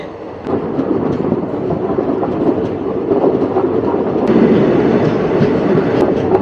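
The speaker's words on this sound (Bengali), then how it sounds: "আমাদের ট্রেনটা এখন টানেলের ভেতর দিয়ে যাচ্ছে" A passenger train bound for New Mal in the Dooars runs through a tunnel, giving a loud, steady roar and rumble with faint wheel clatter and no voices.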